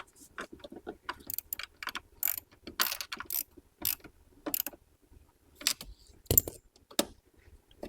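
A ratchet with a deep socket clicks in short, irregular bursts of close, sharp ratcheting while an ECU is mounted in a tight spot of a Nissan S13, with quiet pauses between strokes.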